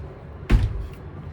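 A door on an MJM 3 boat is moved with a single close, firm thunk followed by a brief rattle and low hum of the cabin in the background.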